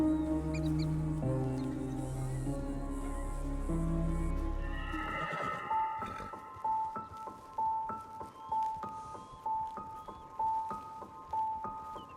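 A video game horse in a Halloween horse mod neighs in a long, loud whinny, then a quieter string of short clucking, clip-clop-like calls follows with no speech.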